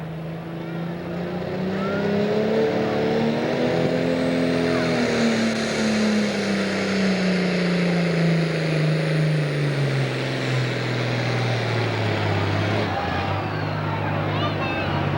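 A powerful tractor engine roars steadily at close range during a tractor pull, its pitch rising then slowly dropping as it labors under heavy load for the full stretch.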